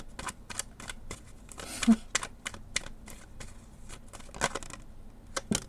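Tarot cards being shuffled by hand: a series of crisp, close paper riffles and taps in an uneven rhythm, fairly quiet, with a few sharper clicks.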